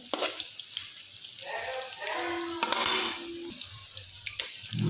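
Cauliflower pakoras in oil give a soft, steady sizzle close up, overlaid by clinking and scraping of a utensil and a brief watery splash partway through.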